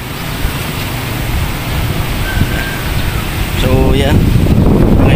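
Strong gusting wind buffets a rural provincial waterside, roaring in a constant close rumble that swells stronger near the end, with a brief human sound partway through.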